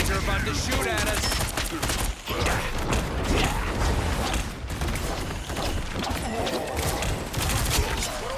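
Rapid bursts of gunfire with clanking mechanical weapon sounds fill a hectic Marvel Rivals match, loud and nearly continuous with brief dips, while players talk over the action.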